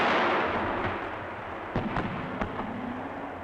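Artillery firing 105 mm illuminating shells, heard as several sharp distant reports spaced a second or so apart over a steady hissing background, moderately loud and unaccompanied by speech.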